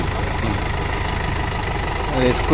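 Mahindra 3DX tractor engine straining to pull a fully loaded trolley with a punctured tyre, a low steady chugging drone that swells slightly near the end, with a voice briefly heard in the background.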